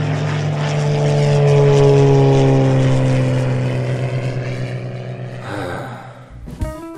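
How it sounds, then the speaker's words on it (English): A loud propeller airplane engine drones steadily overhead, its harmonic hum rising and then fading away, with a brief clatter near the end; no one speaks. "Hey, Mario, you see the airplane?"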